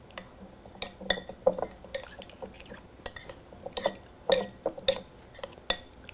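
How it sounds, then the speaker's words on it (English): A red wine vinegar and olive oil marinade is mixed in a bowl, making repeated close clinks and scrapes of a utensil against the bowl in an uneven rhythm. "Now we're going to take this and just mix thoroughly,"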